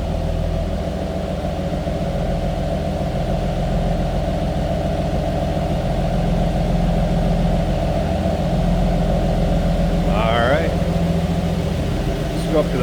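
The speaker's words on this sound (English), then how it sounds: "Slip around to the back so you can hear this run." A 1962 Ford Galaxie 500 convertible's engine idles steadily from behind the car, a low, even rumble that goes on throughout, with a brief higher whine near the end.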